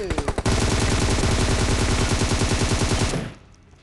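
Video game gunfire: a few quick single shots, then a sustained rapid automatic burst of about three seconds, loud and close, cutting off abruptly into quiet.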